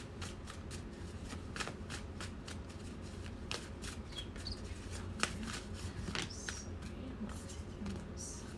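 Tarot cards being shuffled by hand, a steady run of soft riffling flicks and taps at close range, fairly quiet, with no talking.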